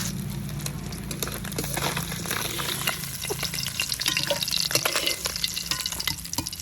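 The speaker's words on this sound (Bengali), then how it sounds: "ভেজে নিচ্ছি" Puti fish, small pool barb, frying in a pan of oil for a bottle gourd curry, giving a steady close sizzle with spattering crackles throughout and no talk.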